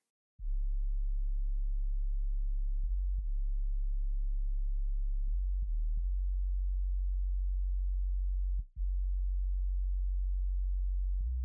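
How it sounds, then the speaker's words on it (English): A deep, steady sub-bass tone from a dark R&B beat hums low and continuous, with a few brief dips and pitch changes, nothing else audible. "Now this sub sits right underneath the main bass."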